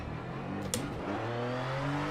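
In a motor racing video game, a BMW's engine revs and shifts, the pitch dropping and then climbing again as the car accelerates, with a brief higher whine near the start and a steady synthetic drone throughout.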